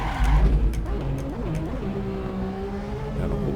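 A Ferrari 643 V12 Formula 1 car in the Assetto Corsa racing game screams through a corner, loud engine pitch dipping and sweeping back up under brief tyre squeal, with no talk.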